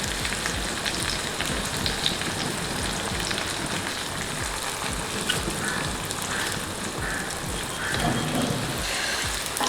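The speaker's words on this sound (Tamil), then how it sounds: "இந்த ஆனியன் நல்லா ஃப்ரை ஆகிடுச்சு பாருங்கள்." Onions fry in coconut oil in a pan, a continuous soft crackling sizzle throughout at moderate level, with no talk.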